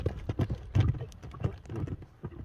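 Hooves of a dark bay horse clip-clop in a steady, uneven rhythm of sharp, close thuds, with no voices over them.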